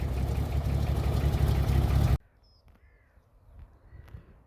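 A WW2 Bedford QL army lorry engine runs loud and steady, close by, for about two seconds, then cuts off abruptly. Crows caw faintly in the quiet that follows.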